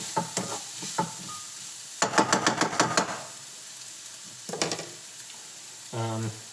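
Smoky beans being stirred in a pot over the heat, a few close scraping bursts of the spoon against the pot with a light sizzle between strokes.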